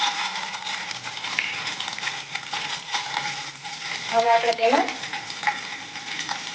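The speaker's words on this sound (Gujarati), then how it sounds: "હવે આપણે તેમાં થોડીક હિંગ એડ કરશું, રાઈ એડ કરશું, થોડાક મીઠા લીમડાના પાન અને એક મરચું મેં એડ કીધું છે એ એડ કરશું." Asafoetida, mustard seeds, curry leaves and a chili sizzle in hot oil as a tempering for nylon khaman, a close, continuous frying hiss with stirring, while a person talks briefly over it.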